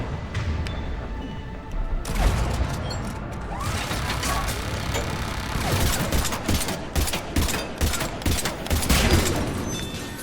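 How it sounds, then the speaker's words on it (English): Rapid automatic turret gunfire in the video game Mass Effect 3, a dense sustained rattle of bursts with crashing impacts, loud and continuous throughout, with a voice briefly heard over the shooting. "Oh, it's a turret."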